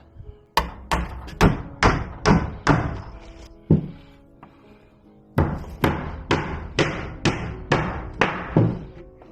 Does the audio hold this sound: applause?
no